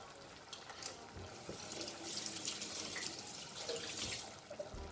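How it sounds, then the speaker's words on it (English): Tap water running into a kitchen sink while a spoon is rinsed, a steady close splashing flow with small clinks and shifts in the stream, moderately quiet and with no talking. "And I'll wash the spoon again."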